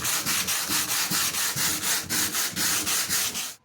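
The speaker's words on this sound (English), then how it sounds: "I'm starting just by sanding where the framing is going to get epoxied to," Hand sanding the interior surface of a camper van high top to roughen it for epoxy, rapid rhythmic back-and-forth rasping strokes, close and steady, about thirteen strokes with no talk.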